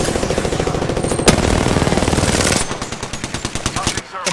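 Gunfire in a tactical shooter video game: a loud, sustained automatic burst, then a faster run of sharp separate shots, with game voice callouts in the mix.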